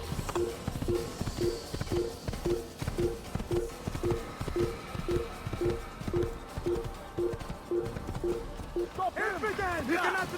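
In the Assassin's Creed video game, a horse gallops with a steady, repeating clip-clop of hooves under game sound, someone talking over it and a brief whinny-like cry near the end.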